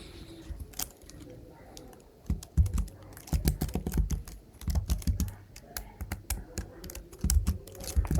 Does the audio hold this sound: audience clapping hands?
no